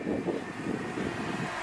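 Two small camera drones hovering outdoors after filming a Mini Cooper race, their propellers giving a steady, moderately loud whirring buzz with some wind rumble, without speech.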